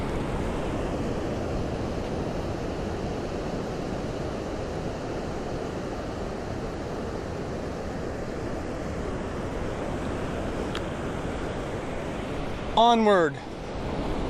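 Ocean surf at low tide along California's Gold Coast, a steady broadband wash mixed with wind noise across the microphone, with a brief spoken word near the end.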